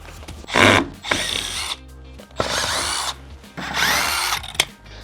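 Power drill unscrewing a wooden flange on the bottom of a new window, three loud whirring bursts separated by short pauses, close by.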